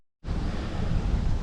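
Steady broadband wind rushes across a ripening barley field on a warm, windy day, a continuous roar with rumbling gusts and microphone buffeting that begins abruptly after a brief silence and holds loud to the end.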